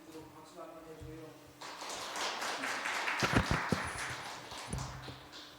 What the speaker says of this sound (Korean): 잘하실 수 있도록 박수 한번 해줘요.